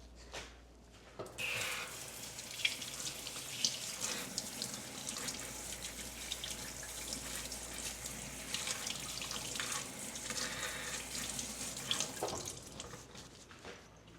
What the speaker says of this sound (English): now that we have washed the potatoes